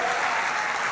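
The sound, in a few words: church congregation applause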